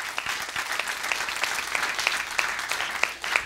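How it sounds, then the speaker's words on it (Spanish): A church congregation breaks into strong, sustained applause during an apostle's sermon, dense and loud with a few sharper claps standing out, without speech. "Dele ese fuerte aplauso."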